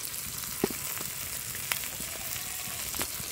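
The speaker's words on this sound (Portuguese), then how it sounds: "agora eu vou deixar ele aqui fritando." Shrimp and potatoes fry in a pan with a steady close hiss and crackle, broken by a few sharp pops, with no talking.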